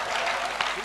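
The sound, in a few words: audience applause at a poetry recital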